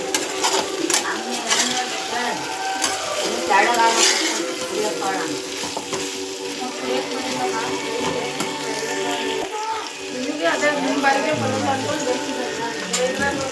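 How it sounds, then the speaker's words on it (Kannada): Ground spinach paste being stirred into a sizzling dhaba-style chicken gravy, a steady frying hiss with frequent scraping and clinking of a spoon against the pan, continuous and close throughout. "ಪಾಲಕ್ ಸೊಪ್ಪನ್ನ ರುಬ್ಬಿಟ್ಕೊಂಡಿದ್ವಿ ಅದನ್ನು ಇವಾಗ ಚಿಕನಿಗೆ ಮಿಕ್ಸ್ ಮಾಡ್ತಾ ಇದ್ದೀವಿ"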